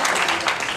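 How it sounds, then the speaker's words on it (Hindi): Brief burst of audience clapping at a Safe Shop gathering, a dense patter of many hands rising loudly and cut off after under a second. "जोरदार ताली होनी चाहिए"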